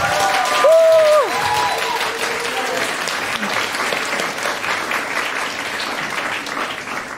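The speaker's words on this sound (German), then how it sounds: "Von daher einen großen Applaus für die erste Gruppe" An audience applauds the first group at a youth hackathon presentation, producing loud sustained clapping across the whole stretch, with a brief tonal electronic sound near the start.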